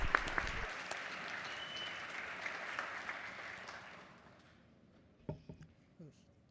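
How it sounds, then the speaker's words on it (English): Applause in a state House legislative chamber during a floor session, a moderate burst of clapping that fades out over several seconds, followed by a few scattered sounds in near silence. "Please give a round of applause and recognition of them here today."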